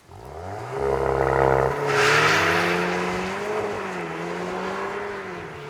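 VW T-Roc R on winter tires in wet conditions launching hard from standstill with launch control: loud engine roar, wheelspin, a quick upshift and rising revs under strong acceleration, close and without talking.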